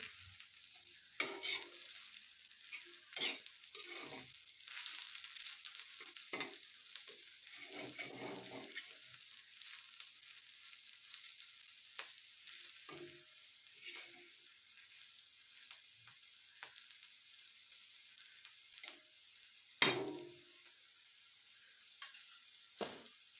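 Potato, onion, garlic, ginger and chili sautéing with spices in a pan, soft scattered sizzling and stirring scrapes, quiet and close, with a sharper clatter near the end.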